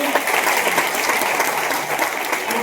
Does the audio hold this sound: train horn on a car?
no